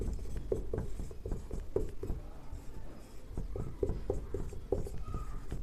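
Pen or chalk writing out a Class 10 maths working, a steady run of short scratchy strokes and taps in a quiet room, close and fairly faint with no talking.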